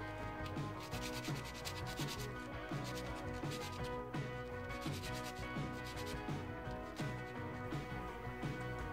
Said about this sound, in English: Let me see if I can sand this down a little bit, make it fit